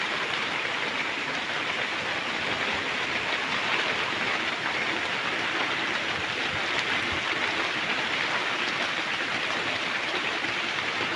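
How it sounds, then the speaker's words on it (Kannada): Steady rain falling on a village, an even, dense patter that holds at a constant level throughout with no voices. "ಒಳ್ಳೆ ಮಳೆ ಬಿಟ್ಟಾಯ್ತು"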